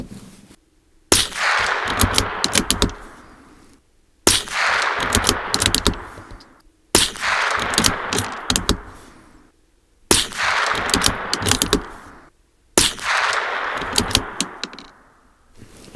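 Five separate bursts of .22LR Thunderbolt rifle fire at a range, each a tight cluster of sharp cracks with a ringing tail, spaced a couple of seconds apart with quiet gaps between strings.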